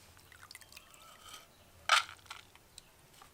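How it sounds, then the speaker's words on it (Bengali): Water drains off soaked black gram lentils being lifted out of a bowl in a kitchen: faint, scattered drips, then one brief louder splash and a few more soft trickles. "জলটা যতটা সম্ভব ঝরিয়ে ঝরিয়ে তুলে নেব।"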